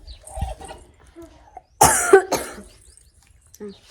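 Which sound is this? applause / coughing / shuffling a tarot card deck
coughing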